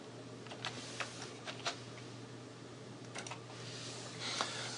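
Keys tapped on a computer keyboard while entering a file-listing command, in a few short bursts of clicks over a low steady hum, fairly quiet and close, with no talking.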